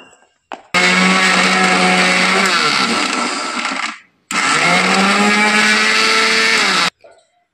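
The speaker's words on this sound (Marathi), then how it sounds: "आता याच्यामध्ये थोडंसं पाणी टाकून आपण मिक्सरमधून छान काढून घेऊया।" A mixer grinder blends besan batter with water for dhokla. It runs in two loud, sustained whirring bursts with a short pause between them, the motor pitch dropping slightly as each run winds down.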